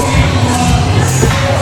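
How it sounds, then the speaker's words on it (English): A dense, loud wrestling crowd roars and shouts at an indie show, a continuous wall of cheering voices close around the listener. "The crowd here up and dancing."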